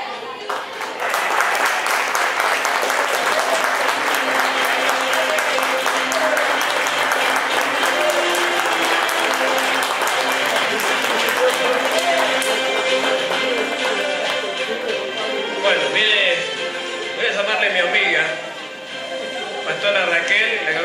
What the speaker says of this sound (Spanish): un fuerte aplauso para la pastora Raquel